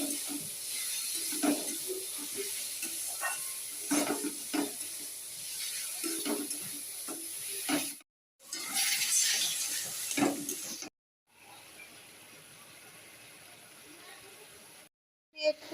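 Spice masala for a rida dried fish chutney sizzles and fries in a pan while a spoon stirs it in scraping, irregular strokes, with two brief silent gaps and a quieter hiss near the end.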